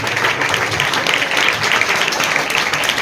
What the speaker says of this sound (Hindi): तमाम तालियों की धूम के साथ सानिया मैडम को यहाँ पर आदर्श शिक्षक का पुरस्कार यानी बेस्ट टीचर अवार्ड से नवाजा जा रहा है